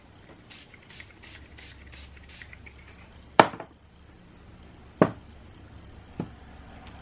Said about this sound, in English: Always give your bottle a shake before you spray.